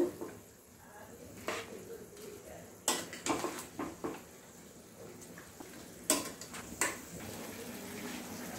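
Utensil stirring and mixing chili chicken ingredients in a cooking pan, with scattered clinks and scrapes of metal against the pan over a faint background hum, several sharper knocks spaced out.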